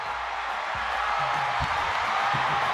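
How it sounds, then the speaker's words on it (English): Football stadium crowd during a college game: a dense, steady roar of many voices fills the whole stretch, loud and sustained, with faint speech underneath. "You hear the crowd roar?"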